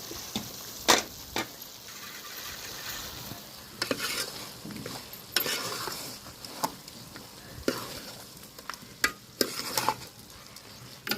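Chicken curry cooks in a pan while a spoon stirs it. Irregular scraping strokes and clatters sound over a low, steady sizzle, at moderate loudness and fairly close.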